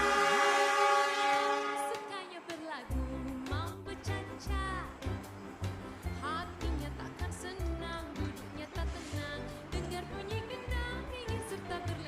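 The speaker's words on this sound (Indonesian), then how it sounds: "Saya masih mau melihat Bapak PPKA yang mau memberangkatkan kereta api Jayakarta dulu." A Jayakarta passenger train pulls out of a station in Indonesia, its horn blasting loud and sustained at first, then giving way to heavy, rhythmic clatter and rumble of the carriages rolling past close by.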